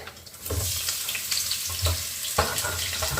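Garlic, onion and green chillies sizzle steadily in a hot pan, with a constant hiss and short bursts of stirring and scraping near the start, middle and end.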